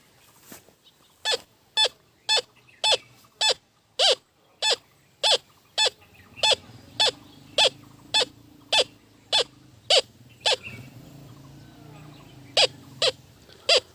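Eurotek Pro metal detector responding over gold: a steady series of sharp, evenly spaced beeps at close range, roughly one every half second, over a low hum with faint background noise.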